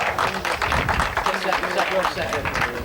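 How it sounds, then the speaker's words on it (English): A crowd claps for the race leader at a 1990 USAC FF2000 race at Willow Springs Raceway, a busy patter of hands heard under an announcer talking over the PA. "Nice round of applause for our leader here."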